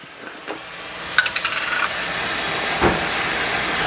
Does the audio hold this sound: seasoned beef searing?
yes